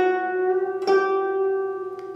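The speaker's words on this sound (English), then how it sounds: "If you bend the string too late or too early, it will sound like this." A single plucked guzheng string bent too early, ringing as one sustained, close tone with a slight pitch wobble and a soft extra pluck near the end.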